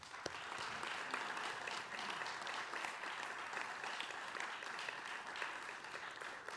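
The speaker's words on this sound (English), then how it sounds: "Let's applaud our sponsors." An audience at a 2010 Louis Armstrong jazz camp press conference gives its sponsors a sustained round of clapping, dense and even throughout, heard from within the room.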